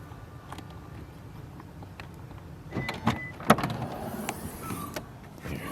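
Powered tailgate motor on a 2013 Lexus RX 450h F Sport whirring as the boot opens, low mechanical hum with a couple of clicks and a latch thud near the middle, close by and moderately quiet.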